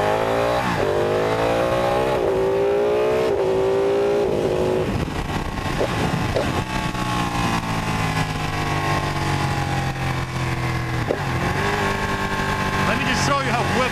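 A 2016 Ducati motorcycle pulls hard in second gear up to about 48 mph, its engine note climbing in repeated rising sweeps that break at each shift. The loud, close, continuous roar comes with wind noise.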